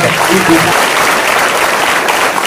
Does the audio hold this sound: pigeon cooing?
no